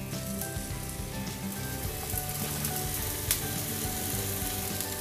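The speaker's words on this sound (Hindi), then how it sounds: "फ्रेंड्स, अब हम इसके चारों तरफ थोड़ा सा ऑयल डालेंगे।" Oil sizzling around a flour pancake (puda) in a pan, a dense continuous crackling fry held at an even level throughout, close and without talk.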